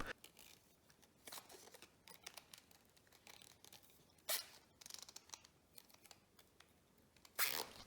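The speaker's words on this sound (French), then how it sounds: "On commence à enrouler par le bas de la raquette et on applique le surgrip sur un des côtés larges du manche." A tacky overgrip is wrapped around a badminton racket handle, starting from the butt end, giving faint, sparse crinkling and soft rubbing sounds with a few brief louder crackles in a quiet room.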